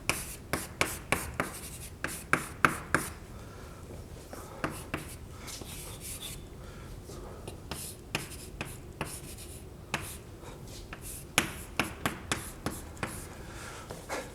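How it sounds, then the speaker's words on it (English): Chalk or marker strokes on a board during a mathematics lecture, a series of quick sharp taps and scratches repeating irregularly, close and fairly clear over a quiet room. "Let me write it down first."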